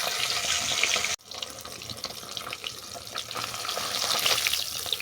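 A rohu fish head fries in hot oil, broken up as it cooks, with dense crackling sizzle that cuts out abruptly for a moment, then resumes and builds steadily louder.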